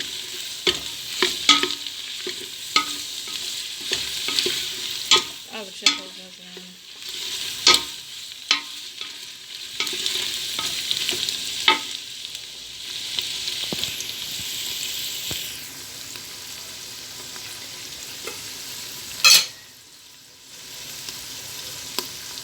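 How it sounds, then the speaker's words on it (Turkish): Peppers sauté in a pan on the stove for a Turkish bean dish, with a faint sizzle under repeated scraping stirs and clinks of a utensil, plus a brief water splash near the end. "Biberlerimle de kavrulsun biraz."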